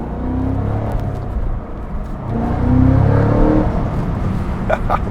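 A Cadillac CT5-V Blackwing sedan's engine pulls hard through a downshift, a loud, deep rumble heard from inside the car that swells and climbs in pitch midway before easing slightly.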